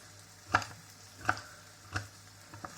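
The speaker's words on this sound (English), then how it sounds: "So here we go, we're chopping them." A knife chops chilies on a board, four sharp, spaced thuds at a slow steady rhythm, close and fairly quiet against a still background.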